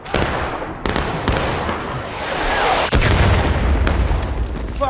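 Musket volleys fired by a line of soldiers in the video game War of Rights: several loud, booming reports in close succession over a constant rumble of battle.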